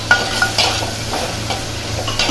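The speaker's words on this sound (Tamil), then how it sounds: "மல்லித்தூள், மிளகாத்தூள் இவ்வளோ போட்டு நல்லா கிளறி விட்டுருவோம்" Coriander and chili powder being stirred into a frying dried-fish podimas in a pan, with repeated scraping strokes, light clinks of the spoon against metal and a faint sizzle underneath.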